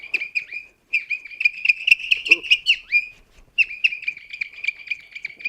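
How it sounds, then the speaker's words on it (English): A Japanese folk toy bird whistle, twirled in the air, chirps and warbles rapidly in bright, chaotic bursts, pausing briefly twice before resuming, close and fairly loud. "twirl it in the air, and then you get a lovely, quite chaotic bird sound"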